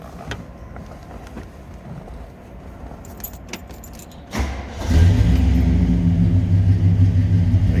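A 1965 Pontiac GTO convertible with its tri-power 389 V8 starts up after some jangling of keys and quiet handling, catching into a loud, steady, deep rumbling idle close by.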